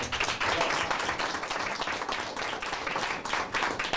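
Dense audience applause at a regular school board meeting, many hands clapping steadily at close range for about four seconds with no voices over it.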